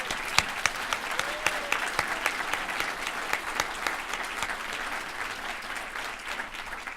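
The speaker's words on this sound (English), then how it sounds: "Let's give her another round of applause." Audience applause at the 2014 State of the City address by the mayor of Tacoma, a sustained round of many clapping hands with occasional sharper nearby claps, steady and fairly loud.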